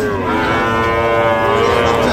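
A cow gives one long, loud, close moo at a hot, busy village cattle market in Bangladesh, holding the low bellow for the whole stretch.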